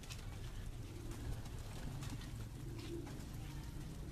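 Pigeons in a loft give soft, low cooing under a steady background murmur, continuous and moderately close, with no clear speech.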